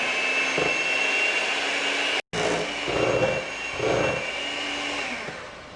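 Black & Decker electric mixer running on low while mixing a no-bake cheesecake, a loud steady whirring drone with a brief cutout partway through and rising, swelling bursts of strain as the beaters work.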